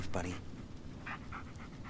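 A dog pants in the Blair Witch video game, quick breathy huffs that come close and brief while someone talks over them.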